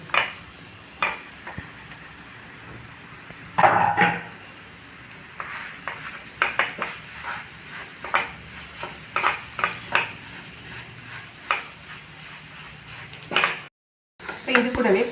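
Grated potatoes fry in a pan with a soft continuous sizzle, and a spatula stirs and scrapes them in repeated clattering bursts, close and clear.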